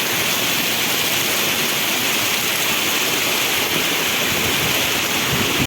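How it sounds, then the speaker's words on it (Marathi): Heavy monsoon rain in coastal Konkan, at Mahad in Raigad, pours down as a dense, loud, unbroken hiss of water that stays steady throughout, with no voices over it. "जोरदार पाऊस चालू आहे"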